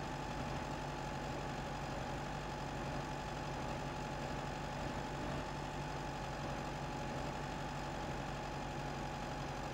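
A tractor engine idles steadily while reversing, a constant droning rumble with a firm low hum and a faint knocking texture, loud and unbroken with no talking.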